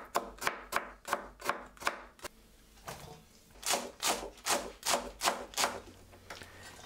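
Spring onion chopped with a knife on a board for beetroot and apple kimchi: a run of crisp, regular thuds, a short pause, then another quicker burst of evenly spaced chops, close and clear.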